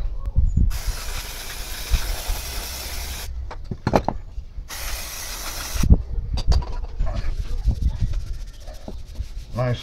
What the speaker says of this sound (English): Nice soft wire brush.